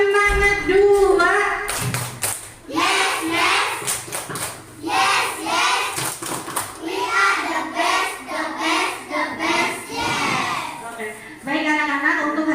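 Children in an Indonesian classroom doing the tepuk semangat rhythmic clapping chant, chanted voices in a call-and-response pattern punctuated by sharp, synchronized bursts of hand claps, loud and close throughout.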